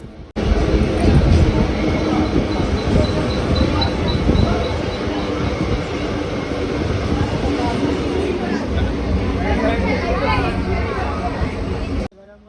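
A local train pulling out between Palghar and Boisar stations gives a steady loud rumble and rattle of wheels for over ten seconds, with carriage noise and faint chatter mixed in.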